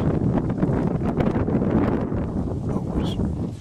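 Outdoor wind blows steadily across the microphone, a loud constant low roar with slight gust swells.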